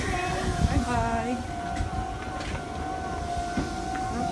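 A train passes at a station in Japan, its broad rumble and steady hum filling the scene with tonal whine, while voices talk over it.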